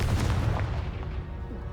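A Confringo blast spell explodes in Hogwarts Legacy as a dense, booming rumble. It is loud and heavy from the start, with crackling bursts inside it, and it thins slightly over its short length with no talking.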